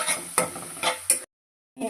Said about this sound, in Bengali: ভালো করে মশলাটা কষিয়ে নিতে হবে